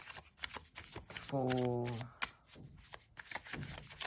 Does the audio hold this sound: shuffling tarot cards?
yes